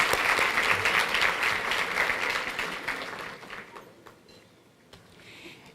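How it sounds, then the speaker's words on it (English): An audience at a Prince George's County government event claps warmly for honorees, a dense burst of applause that thins out and trails away into scattered claps after a few seconds. "And join me in applauding."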